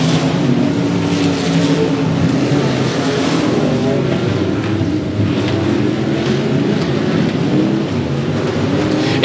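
Race cars roar around the oval at 105 Speedway during a regular race program, a loud, continuous engine drone with rising and falling revs as the pack passes.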